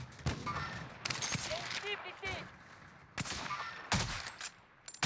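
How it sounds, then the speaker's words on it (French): Call of Duty Warzone battle with bursts of game gunfire and sharp shots among ambient effects, while people talk over the action. "Ça nous vise au sniper là-bas."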